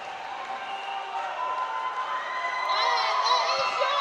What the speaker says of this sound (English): You can see Team Great Britain applauding.